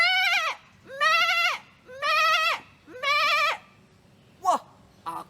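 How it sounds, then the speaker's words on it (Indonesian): Sheep bleat repeatedly and close by: four long, wavering calls in a row, then two short broken bleats at the end. "Domba-dombanya sudah teriak-teriak."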